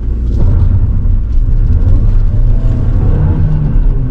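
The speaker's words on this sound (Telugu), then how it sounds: "ఇప్పుడు ఈ గ్రాండ్ విటారా యొక్క టాప్ స్పీడ్ టెస్ట్ చేద్దాం" A Maruti Grand Vitara accelerates hard in first gear at high revs, a loud, steady low engine roar and road rumble heard from inside the cabin without letup and without talk.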